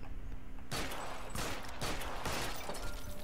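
Gunfire in the video game L.A. Noire, fired at a crate, several sharp loud cracks in quick succession after a brief quiet start, each with a short decaying tail.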